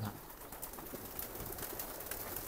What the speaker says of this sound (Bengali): এই দেন সারা চাল কবুতর।